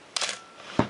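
A Canon AE-1 Program 35mm film camera fires its shutter at 1/500 second, a single close mechanical clack with a quick follow-up click about half a second later, crisp and isolated.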